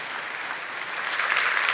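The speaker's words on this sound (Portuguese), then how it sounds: "Você pode aplaudir a palavra de Deus." A church congregation applauds after a Gospel reading at a Catholic Mass, a steady, dense wash of many hands clapping that swells slightly toward the end.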